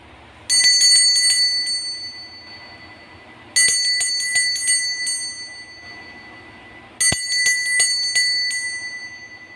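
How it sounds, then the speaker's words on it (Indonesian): A bell is struck three times at spaced intervals, each ring bright and metallic with a long fading ring, marking the start of a card reading. "coba kita akan mulai ditandai dengan lonceng berbunyi"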